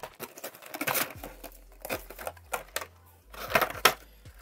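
Tape is pulled off the packaging of a Bandai Sailor Jupiter Animation Color figure, making irregular close crinkling and tearing rasps in short bursts with quiet pauses between them.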